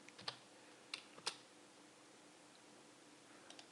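A file number is tapped out on a computer keyboard as a few sparse, sharp keystrokes, three early and two near the end, against a faint steady room hum.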